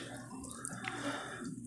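Grease drains from a frying pan used for hamburger steak patties, a soft steady trickle and drip close by, with no talking.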